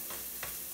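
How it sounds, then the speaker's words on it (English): Onions caramelizing in a pan, cooked like the base of a French onion soup, give off a steady soft sizzle with two brief louder stirring swishes. "we're just letting this get nice and caramelized just like you would a French onion soup"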